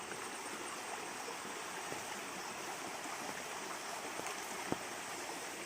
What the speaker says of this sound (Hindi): तो छोट नदी टीर पानी केमिति बोही कर आसी देखिथिबे।